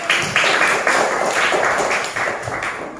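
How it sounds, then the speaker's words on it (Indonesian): Schoolchildren in a classroom clap together for a classmate, a close, moderately loud burst of hand claps in uneven rhythmic pulses lasting a few seconds. "Tepuk tangan buat Dika"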